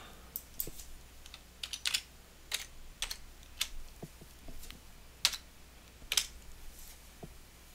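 Fingers tap a computer keyboard in quiet, uneven bursts of sharp clicks with short pauses between, nearby in a calm room and with no voices.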